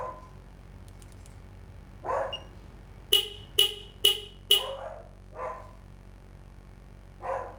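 A dog barks a few times in the background, faint and distant, while someone works on a remote start installation for a 2024 Subaru Crosstrek Wilderness. Four sharp electronic beeps cut in close by.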